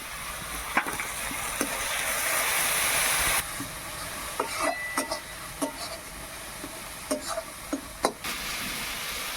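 Onion paste, tomato paste, chili powder and meat masala frying in oil in a pan, a steady low sizzle broken by scattered sharp ticks and spatula scrapes, close and quiet.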